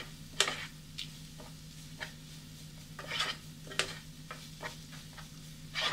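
Garlic cloves sautéing in a pan for a beans thoran stir fry, giving a soft steady sizzle broken by repeated sharp scrapes and taps of a spatula against the pan, close and moderately quiet.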